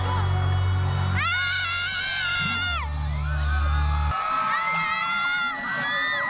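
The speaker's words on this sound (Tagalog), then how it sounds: "Sila ngayon yung tumitili na." A crowd of fans at an outdoor music festival screams and shrieks in loud, sustained high-pitched waves, with a heavy low rumble under the first part, swelling again near the end.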